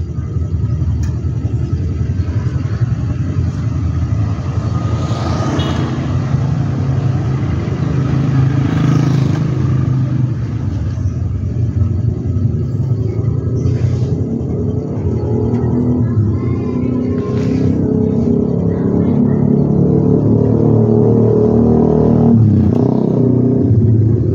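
Constant engine rumble of motorcycles moving along a busy street in Medan, Indonesia, with several bikes buzzing past and revving against a dense traffic drone.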